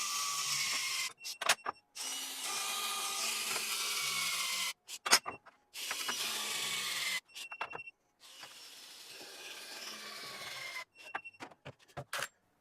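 A torque gun tightens lug nuts to 250 foot-pounds in several long, loud motorized whirring bursts, each several seconds, separated by short clicks and pauses, close up with no talking.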